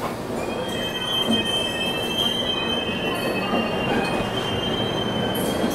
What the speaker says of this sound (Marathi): दोन्ही ट्रेन हळूहळू जात आहे या ठिकाणी